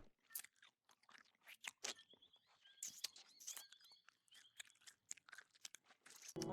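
A dog crunches dry kibble up close, with a rapid, irregular run of sharp crunching bites and chewing that continues steadily throughout, with no talk over it.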